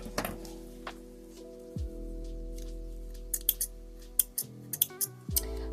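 Small handmade-craft scissors meant for thread snip several times close by, giving crisp metallic clicks over a steady low electrical hum, with the cuts coming quicker toward the end.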